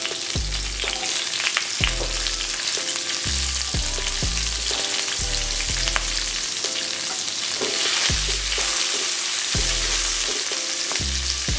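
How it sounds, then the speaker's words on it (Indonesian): Chili frying in oil in a pan that already holds fried garlic, with a steady loud sizzle and crackle throughout. Stirring and clattering recur at an uneven rhythm, and no voices are heard. "Bawang putih udah kita goreng, langsung kita masukkan cabai."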